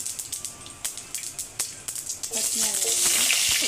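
Cumin and mustard seeds hit hot oil for a chana dal and potato curry, with a few sharp crackles at first, then a loud, steady sizzle building and holding.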